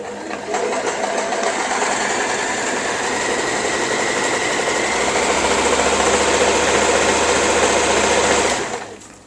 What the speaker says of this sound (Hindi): तो ये देखो कितनी अच्छी एक समान पैटर्न में सिलाई आ रही है।